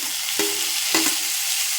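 Chopped onion, coriander and tomato frying in oil in a pan for a home-style methi matar malai, a steady sizzle with two brief stirring scrapes, close and moderately loud, no talking.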